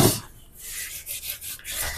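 Hand sanding of wooden parts on an MDF coffee table, a soft, steady abrasive rubbing with a few brief rhythmic strokes toward the end, close and fairly quiet.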